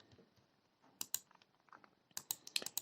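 Computer keyboard typing in two short bursts of clicky keystrokes, close and fairly quiet, with a pause between them and no talking.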